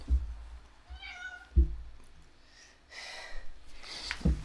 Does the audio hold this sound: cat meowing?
yes